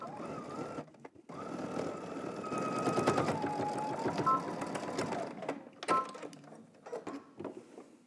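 A domestic sewing machine runs steadily while topstitching a turned-down fabric flap, its needle chattering in a fast, even rhythm, pausing briefly and then restarting in short bursts near the end.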